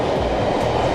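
A high-speed train rumbles past in a brief, loud burst of wheel and rail noise with a rhythmic clatter, and no voices.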